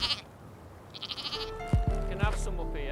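A farmer's flock of sheep bleats, two or three loud, close bleats rising one after another over a low background murmur.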